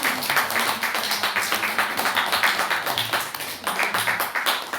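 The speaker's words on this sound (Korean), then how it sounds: "오늘 우리 간증해 주신 그리고 드라마 해주신 우리 다시 한 번 더 우리 차전 장로님 최순 전사님께 박수." A congregation claps together during a Sunday worship service in a church, quick overlapping hand claps in a lively, fairly even rhythm that continue throughout.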